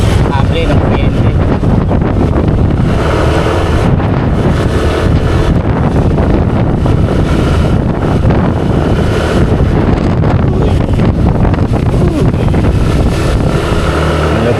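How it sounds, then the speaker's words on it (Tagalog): Strong wind roars steadily into the microphone during heavy rain on a trip back to Navotas, a dense continuous rushing that stays loud throughout with no clear pauses. "Ang lakas ng hangin."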